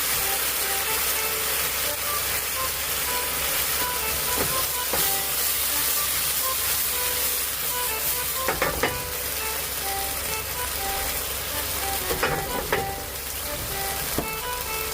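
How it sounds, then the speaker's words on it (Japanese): Sauce hisses loudly as it hits eggplant stir-frying in a little oil in a pan, a dense continuous sizzle broken by a few spatula scrapes and clatters. "そしたらここで奇跡のヤバいタレを入れて、炒め合える"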